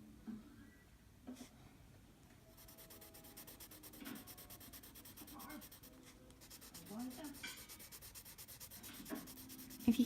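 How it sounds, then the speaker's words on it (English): Coloured pencils rubbing and scratching across paper during a Halloween colouring session with skulls and skeletons, a steady soft scraping texture close by, with a film playing faintly in the background. "the sound of pencils on paper is really annoying"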